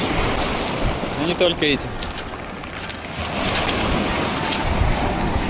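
Black Sea surf breaks on a wide beach with continuous wave wash and wind rumble, while a person talks over it.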